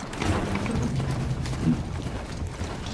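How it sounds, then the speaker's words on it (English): Steady hoofbeats of a video game horse clip-clop continuously in a rhythmic pattern, fairly close, with a dense background of ambient noise and no clear talk. "Pretty frisky horse you got there."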